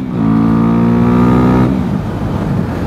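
A car engine roars loudly while climbing the winding road up Mont Ventoux, the revs rising steadily before dropping off sharply near the end, with no talking.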